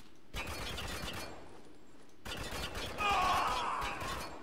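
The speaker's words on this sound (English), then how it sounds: "Where the hell are they shooting us from?" Distant gunfire in the military shooter Spec Ops: The Line: muffled rattling volleys in two stretches separated by a short near-silent gap, with some clanking mechanical noise in the second burst.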